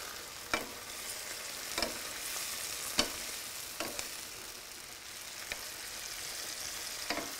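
Tomato cooking in a pan over a gas flame while making stuffed peppers, a steady soft sizzle broken by about seven evenly spaced spoon scrapes or taps, close and moderate in level with no voices.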